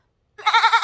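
A person mimics a goat's bleat with their voice, a single wavering, nasal bleat that starts abruptly after a brief silence and pulses rhythmically for about half a second, close and loud.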